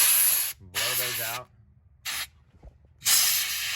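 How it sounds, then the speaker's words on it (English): Compressed air blasts from a nozzle clearing debris out of the Allen-head intake plenum bolts on a Nissan VG33 engine, three loud hissing bursts of about a second each with short pauses between, and a voice speaking briefly in one gap. "The first thing to do is to blow air on the bolts"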